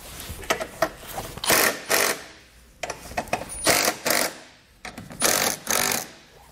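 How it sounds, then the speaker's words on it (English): A 13 mm socket snugging up the bolts that hold a hidden trailer hitch to the body of a 2014 Volkswagen Jetta, heard as repeated short, sharp bursts of ratcheting and driving noise in clusters, with brief pauses between. "I'm going to go ahead and take a 13 millimeter socket, and we're going to snug up our bolts which are holding the hitch to the body of the vehicle."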